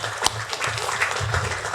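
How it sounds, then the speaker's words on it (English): Applause from a small crowd of members at a real estate chamber networking event, a steady patter of clapping lasting a couple of seconds with one sharper clap near the start. "Give everybody an applause."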